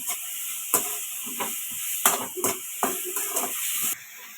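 Grated potatoes stirred and sautéed in a pan: a steady hiss of cooking with repeated scraping strokes of a spoon against the pan, close and moderately loud, ending abruptly.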